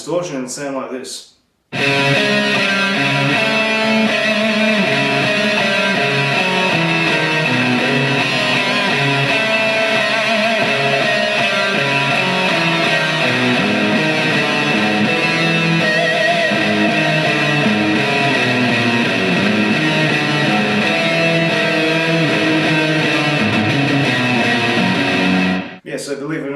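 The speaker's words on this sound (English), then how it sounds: "On distortion it'll sound like this." A heavily distorted electric guitar plays a driving, chugging riff from the Doom video game continuously for about twenty-five seconds, loud and close, with no talking over it.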